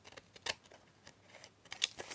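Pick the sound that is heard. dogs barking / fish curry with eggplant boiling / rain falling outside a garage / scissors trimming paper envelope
scissors trimming paper envelope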